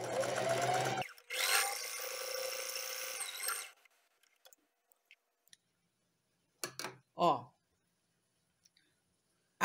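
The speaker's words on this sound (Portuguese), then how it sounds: "um pezinho de máquina, retrocesso no início, retrocesso no final" A sewing machine runs a seam with backstitching at the start and end, whirring in two close bursts up front, followed by sparse clicks and a few brief spoken words.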